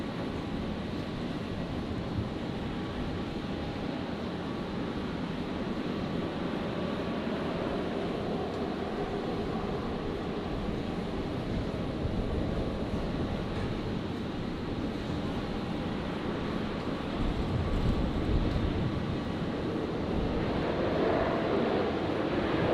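A Rex airliner arriving from Sydney and landing on runway 01 right at Brisbane airport, a steady, fairly distant jet roar with wind noise that swells slightly near the end.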